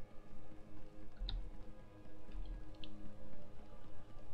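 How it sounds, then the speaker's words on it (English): Rain falls in a science-fiction online role-playing game, Star Wars: The Old Republic, as soft scattered patter and drips over a faint steady background, with no voices. "it's raining. I didn't know there was a weather cycle in this game."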